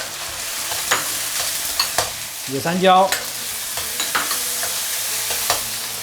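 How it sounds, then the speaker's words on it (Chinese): Ginger, garlic, pickled radish, pickled long beans, green Sichuan peppercorns and pickled chilies stir-fried over maximum heat in a wok: steady loud sizzling with scraping spatula strokes and clatter throughout, a brief voice speaking midway. "大火慢慢去炒它"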